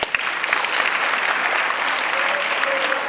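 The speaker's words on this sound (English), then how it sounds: "I find all these wonderful people should be given a round of applause" At an interschool junior debate, the audience gives the debaters a loud, sustained round of applause, dense clapping with a few sharper claps standing out near the start.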